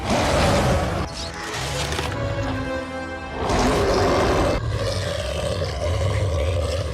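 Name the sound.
werewolf roar from the Wolf Man 2025 movie trailer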